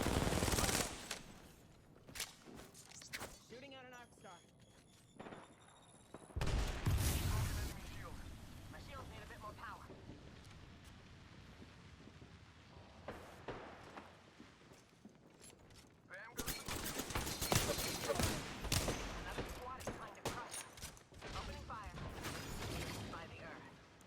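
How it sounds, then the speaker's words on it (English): Gunfire in the video game Apex Legends comes in loud rapid bursts and sustained automatic volleys, with quieter gaps of scattered shots and mechanical clatter between them, while a voice talks over the action. "Shots fired, and they're hitting me."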